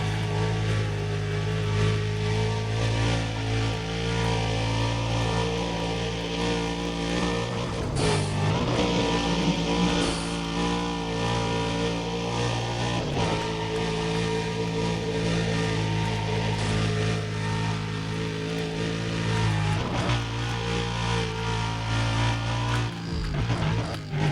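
Car engine droning steadily while driving off-road on a dirt shortcut in the racing game Need for Speed Undercover, a loud continuous motor hum with shifting pitch throughout and no talking.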